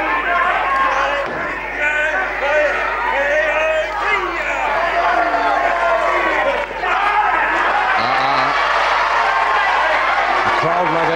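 A crowd at a 1975 UK professional wrestling match cheers and applauds loudly and steadily throughout, with a commentator talking over the noise.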